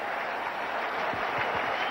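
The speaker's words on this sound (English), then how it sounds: "The Indian captain acknowledging the applause from the crowd" A cricket-ground crowd applauds Indian captain Mohammad Azharuddin after a long innings, with the side declared at 633 for 5. Broad, steady, distant applause rolls on without a break, and faint commentary sits underneath.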